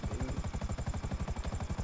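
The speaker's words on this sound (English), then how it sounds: "Try to land nice, don't mess up your helicopter because you're gonna need it." A helicopter in the video game GTA 5 comes in to land, its rotor thumping in a fast, steady, loud rhythm with a constant engine whine, close and unbroken throughout.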